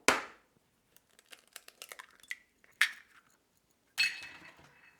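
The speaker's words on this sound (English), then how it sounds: "we are going to start off with cracking our eggs" Eggs cracked into a bowl for an omelette, sharp taps and cracks with small drips and clinks between, separate close events with quiet gaps.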